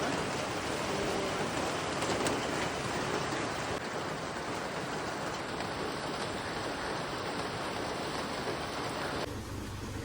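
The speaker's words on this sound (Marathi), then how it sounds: "पाऊस चालू" Steady, dense rain pours down in a continuous hiss without pause.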